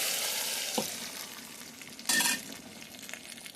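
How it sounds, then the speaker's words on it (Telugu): Lentils tip into hot oil tempering for dosakaya pappu, a cucumber dal, raising a loud burst of sizzling that then settles into steady frying, with spoon stirring scrapes audible close by. "ఇప్పుడు దీంట్లో"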